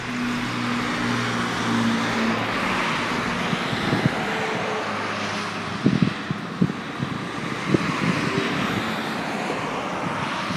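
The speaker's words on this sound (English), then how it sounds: "So here comes a car." A race car at the Mosport (Canadian Tire) racetrack passes at a distance, its engine a steady rising and fading drone over wind and ambient track noise, with a few brief louder bumps.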